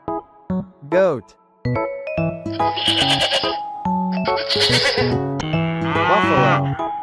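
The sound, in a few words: goat bleating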